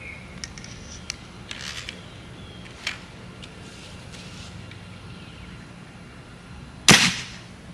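A crossbow bolt fires from a Ballista-style crossbow as a single sharp, loud snap near the end, with a few faint clicks earlier and otherwise quiet surroundings.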